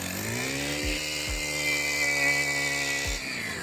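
A STIHL edger's small two-stroke engine runs steadily after a carburetor repair, with a continuous rough buzz and a few brief dips in pitch.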